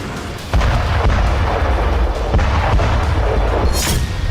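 Russian artillery fire against Ukrainian forces in South Donetsk: a dense, continuous rumble of heavy blasts with sharper booms cutting through, loud and close, with no voices.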